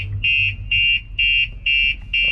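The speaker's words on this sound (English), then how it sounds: "alarm goes off" A car alarm on a 2016 Mitsubishi Outlander PHEV blares in steady repeated pulses, five loud electronic beeps with short gaps, over a low engine-like rumble.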